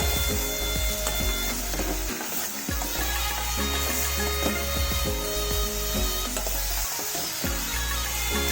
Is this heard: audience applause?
no